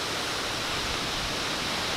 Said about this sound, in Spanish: ¿habías visto una cascada tan grande?